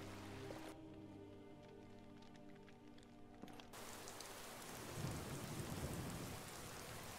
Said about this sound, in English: At least the rain provides some cover.